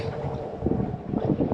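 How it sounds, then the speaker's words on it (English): Wind buffets a fishing boat off Topsail Island, North Carolina, a loud, close rumbling roar of gusts hitting the microphone, steady with a few stronger surges and no talking. "The wind, it's pretty windy out right now."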